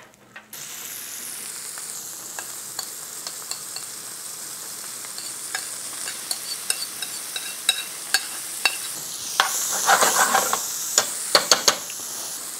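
Butter sizzles in a pan over high heat, a steady bright hiss dotted with sharp pops and crackles that grow denser and louder toward the end; no voices.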